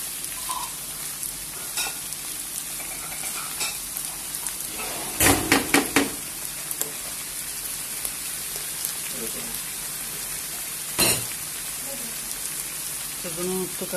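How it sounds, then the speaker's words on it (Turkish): Tomato paste frying in a pan for karnıyarık stuffed eggplant, a steady close sizzle running throughout, broken by a few brief clatters and taps of a utensil, with no talk. "Şimdi salçasından da kavursun güzelce."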